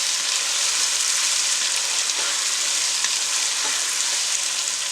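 Vegetables and chicken frying for pulao, a loud, even hiss of hot oil that stays dense and constant throughout, with a few soft stirring knocks underneath and no talking.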